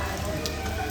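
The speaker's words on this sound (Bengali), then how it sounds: "কিন্তু যেখানে তুমি লাগাবে সেখানেও তো বৃষ্টি পড়ছে" Steady rain pattering on a surface at Shimlagarh Kalibari temple, a continuous dense hiss with no voices.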